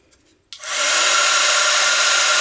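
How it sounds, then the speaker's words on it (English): A heat gun blowing onto wood to remelt embossing enamel switches on after a brief quiet moment, then roars as a steady, loud, close airflow hiss with no talking. "you can just go back in with the heat gun"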